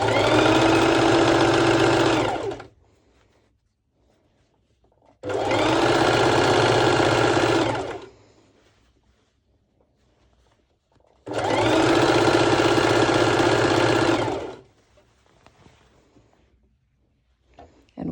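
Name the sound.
sewing machine top stitching fabric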